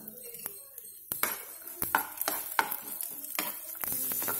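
Mustard seeds crackle and pop in hot oil as chana dal and urad dal go in for tempering, with sharp pops, spoon clinks and a light sizzle building after a quiet start.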